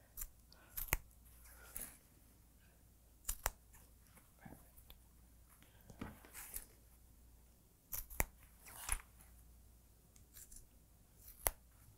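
Scissors snip through fabric in short, quiet cuts, with irregular clusters of crisp snips separated by brief pauses.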